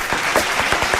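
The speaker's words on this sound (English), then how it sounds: "you deserve a big clap." A small crowd claps briefly for a guest during a halftime show, a dense burst of hand claps filling the short moment, fairly loud and close.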